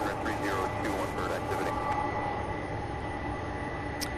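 An Airbus A300-600 airliner inbound from Omaha comes in to land at Louisville's SDF airport, a steady broad jet roar heard from a distance, with someone talking over it.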